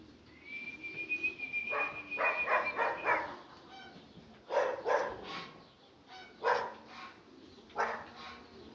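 Dogs bark in repeated bursts amid farmyard noise of pigeons, geese and hens, with a long whistle-like tone at the start and scattered bird calls.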